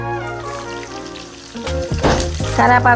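Tempering seeds and curry leaves frying in hot oil for a tomato chana dal curry, a loud sizzle that swells and crackles near the end, with steady background tones beneath.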